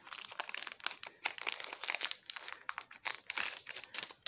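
Plastic packaging on an unboxing parcel being cut and pulled open, a close run of crinkling, crackling rustles and small tearing sounds, with no talk.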